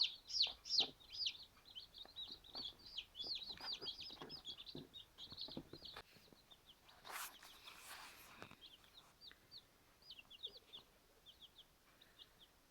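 Recently hatched chicks about two days old peep constantly in high, rapid chirps close by while pecking at millet, with light taps and rustles mixed in, the chirping thinning out toward the end.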